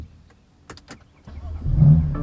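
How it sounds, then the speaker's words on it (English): A BMW F3x starts up. A few clicks and whirs from the ignition are followed by the engine cranking and catching into a loud, close, rising rumble. "then I'm gonna start the car"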